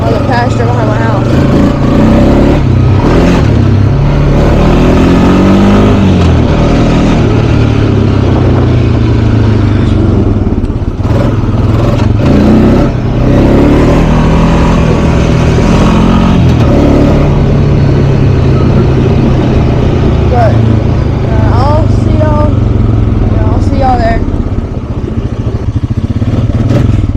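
Two off-road vehicles, a 250 and a 420, ride across a pasture by a pond, engines rumbling and revving loudly and continuously throughout, with people talking over the noise.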